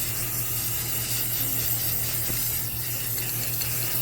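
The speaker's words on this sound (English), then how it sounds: "So make sure to keep the proper distance when you're spraying." A continuous spray hisses steadily as a coating is sprayed onto items, an even, unbroken aerosol rush lasting several seconds without talk.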